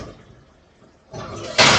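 An oven door swings shut on an apple cobbler, a brief thud and rattle of the hinged door closing near the end after quiet kitchen movement.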